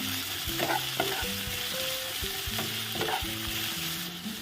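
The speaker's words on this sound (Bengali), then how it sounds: "এবার এটাকে একটু ভাজা ভাজা করব।" Potatoes and onions sizzle in a hot pan while a spatula scrapes and stirs them in repeated strokes, close and steady, with no talking.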